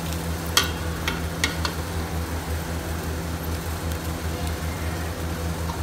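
Spices for mutton korma, including cinnamon, black and green cardamom, black pepper, garam masala and curry leaves, fry in a pan with a steady sizzle under a low hum, broken by a few sharp scrapes of stirring early on.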